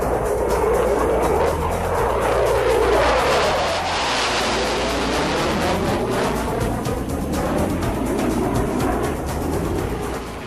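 An F/A-18 Hornet jet flies past with a loud, broad roar and a shifting, sweeping whine that swells and slowly eases over about ten seconds, with no talk.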